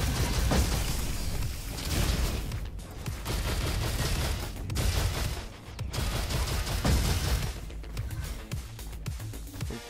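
Loud, dense gunfire and explosive booms from the Robo Quest video game, a grenade fired from an AK-47, in sustained bursts with short gaps, no talk.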